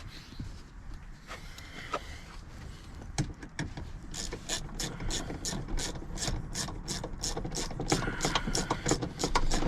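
A ratchet tightens seat belt bolts in a 2015 Ford Flex, starting with scattered clicks and then settling into a steady run of quick, evenly spaced ratcheting clicks, close and fairly quiet, with faint background noise.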